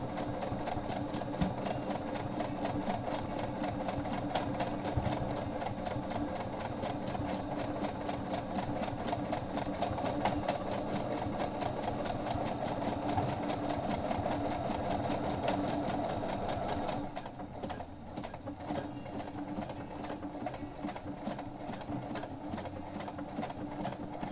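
A Brother HC3010 sewing machine runs a decorative heart stitch, a steady rapid mechanical whir and needle clatter that continues for most of the time, then drops to a quieter hum near the end.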